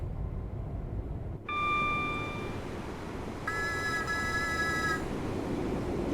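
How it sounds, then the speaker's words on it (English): An AI-driven train in the Train Sim World 6 simulator sounds its whistle twice: a short tonal blast, then a longer, louder chord-like blast, over a steady engine rumble. "It was an AI whistle."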